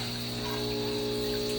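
Water streams steadily from a shower fed by a biogas water heater, a continuous close hiss with a low mechanical hum underneath, unbroken throughout.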